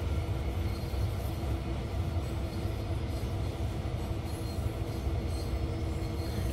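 Train rumbling along rails in Train Sim World 2, a steady low continuous roar with faint rhythmic texture, sustained throughout at moderate level with no voices.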